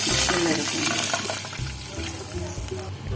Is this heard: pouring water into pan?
yes